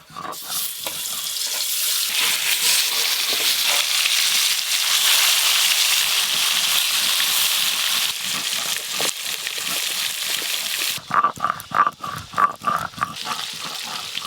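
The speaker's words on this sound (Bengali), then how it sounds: "এই মাছগুলো আর একবারেই ভাজা হয়ে যাবে।" Bhorkol fish frying in a pan, a steady loud sizzle that runs on with occasional stirring, then breaks into choppier bursts of scraping and spatter toward the end.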